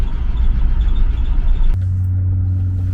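A 1971 International Travelall engine drones loud and steady in 4WD, then drops abruptly to a lower, sustained idle-like hum with a strong low throb.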